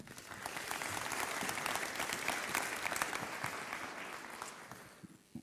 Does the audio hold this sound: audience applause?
yes